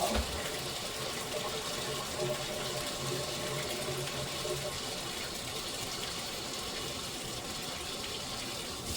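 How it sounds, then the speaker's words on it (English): Steady gush of water being poured into a white laundry container, a continuous broadband rush lasting several seconds at moderate level with no talk over it. "I'm going to put a little more water here in the white one"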